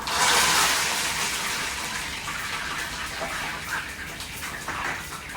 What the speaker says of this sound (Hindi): गरम तो ये हो ही चुका था, अब हम इसमें कड़ी पत्ता डाल देंगे